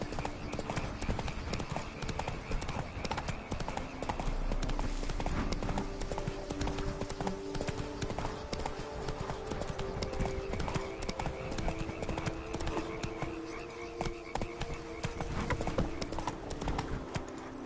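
Roach, a horse in The Witcher video game, clip-clops along in a steady brisk hoof rhythm throughout, with game music and ambience running underneath and a brief whinny-like sound blending in.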